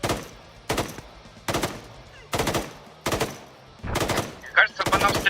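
Automatic gunfire in the military shooter ARMA 3 during a desert battle in Iraq, loud bursts repeating about every second and closely spaced near the end, with faint voices between shots.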